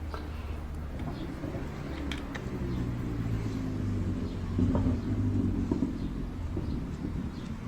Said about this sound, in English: Oh, the car scared him.